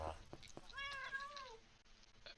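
A stray cat in the video game Minecraft gives one clear, drawn-out meow that rises and falls, standing out against quiet background game sound.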